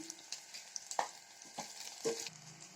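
A few fenugreek seeds frying in hot oil for a buttermilk stew, giving a faint continuous sizzle with light crackles and a couple of utensil taps.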